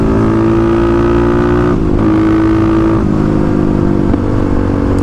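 A Kawasaki KLX351 motorcycle with a big-bore engine and bored head lugs at low RPM, a loud, steady, close engine drone that stays constant throughout with slight dips in pitch.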